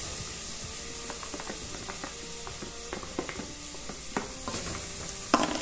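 Cuscuz paulista ingredients stirred and frying in a pan, a steady sizzle under repeated scraping and clinking strokes of a utensil, close and fairly loud with no talking.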